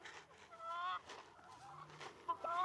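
A black copper Marans rooster gives soft, close clucks and short throaty calls in a quiet yard, faint and intermittent across a couple of seconds.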